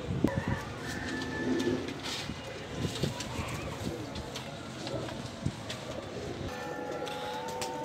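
Pigeons coo softly in low, throaty murmurs against a busy outdoor background, with occasional faint clinks and rustles.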